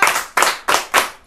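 Hands clap at a church worship broadcast in four crisp, evenly spaced claps, loud and close, with no voices.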